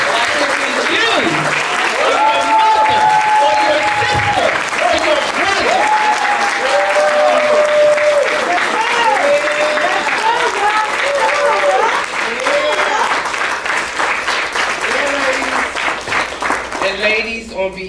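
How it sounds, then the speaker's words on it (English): Loud, sustained audience applause at a real estate ataxia awareness fundraiser, with a thick crowd of clapping lasting many seconds while voices cheer and call out over it. "give them a round of applause."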